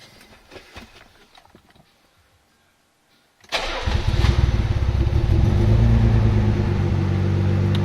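A Nissan Z32 engine tuned to about 400 hp, running slightly rich on startup, cranks and catches after quiet shuffling, then settles into a loud, steady, rumbling idle close by.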